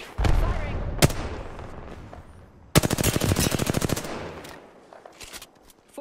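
Rapid automatic gunfire rips through a battle-royale video game, starting with a heavy boom and a sharp shot, then a dense burst of fast, evenly spaced rounds, followed by fainter scattered shots fading out.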